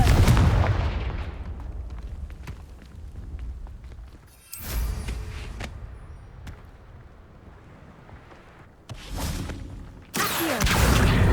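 Confringo fire spell blasts in Hogwarts Legacy arrive as loud booming bursts, one at the start and more several seconds apart, each a sharp crack that decays into a rumbling tail.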